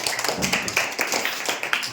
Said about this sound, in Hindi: इसके लिए तालियां बेटा, बहुत बढ़िया।